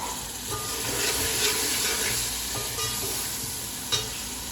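Boiled peas being stirred into samosa filling in a pan with the flame off, giving a continuous soft hiss and scraping of the mix, close by with a faint clink near the end.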